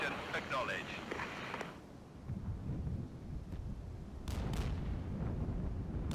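Artillery from a DPICM fire mission in the war game Regiments rumbles as low, rolling booms and distant explosions, with someone talking over the start and radio-style game voices mixed in.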